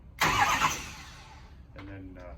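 A starter motor engages as a jumper wire bridges the starter solenoid: a loud burst of cranking noise up front, then a quieter stretch with brief whirring turns near the end.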